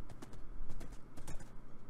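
Horse hooves trotting in Minecraft, a quick steady clip-clop rhythm of close, moderately soft hoofbeats over a low ambient bed.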